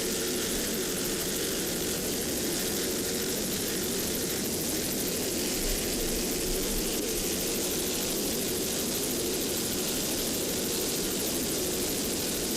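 A pair of 1,400-horsepower Stotler racing inboard engines on an offshore racing powerboat roar in a loud, unbroken drone, a dense wash of mechanical noise with no talking.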